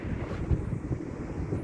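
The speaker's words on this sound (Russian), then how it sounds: "Ветреный такой день." Gusty wind on a windy day outdoors near a bus stop buffets the microphone, a continuous low rushing roar with small bumps and no voices.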